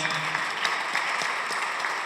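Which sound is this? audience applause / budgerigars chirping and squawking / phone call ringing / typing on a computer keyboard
audience applause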